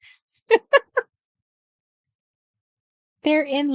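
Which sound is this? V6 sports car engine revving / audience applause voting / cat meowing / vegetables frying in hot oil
cat meowing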